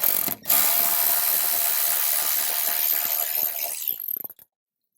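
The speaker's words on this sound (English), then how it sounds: "So let me get a ratchet and we'll do that." Ratchet clicking steadily as it tightens a 10 mm bolt onto a factory ground point in a 2018-up Jeep Wrangler JL, a close, continuous rapid pawl chatter that stops abruptly near the end.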